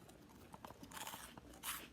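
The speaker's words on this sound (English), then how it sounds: "And listen to this crunch." Biting into a homemade crouton gives a quiet run of crisp crunches and crackles, close to the mouth, with a louder crunch near the end.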